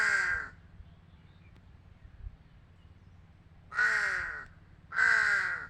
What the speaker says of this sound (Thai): อีกาดำ